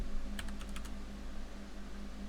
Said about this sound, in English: Watch this when I start typing.